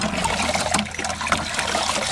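Cold water gushes steadily from a newly pumped well on raw homestead land, a continuous splashing trickle at close range with no talk over it.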